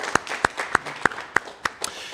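About seven sharp, evenly spaced hand claps ring out close by at a county COVID-19 briefing, a sparse, slow clapping rather than full applause.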